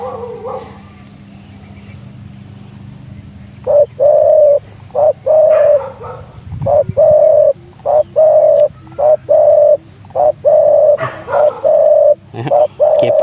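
A big-voiced zebra dove cooing in a loud, rhythmic series of short repeated coos with brief pauses between, close and clear, some calls clustered in quick pairs.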